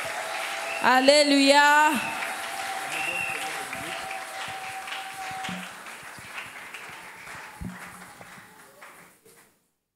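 A church congregation at an evening gospel festival applauds loudly to acclaim the Lord for about a second, with bright claps and a shouted acclamation over it, then the noise gives way to murmuring and a voice speaking in the hall.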